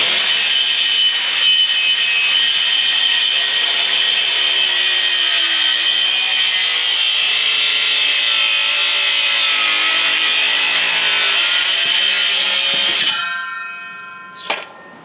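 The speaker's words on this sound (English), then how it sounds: "Oh, this saw's doing good. That's cool. There's our cut." A power saw cuts through a wooden board at a 30-degree angle in a feed room. There is one long, steady, loud cut lasting about thirteen seconds, then the blade winds down and a short clunk follows.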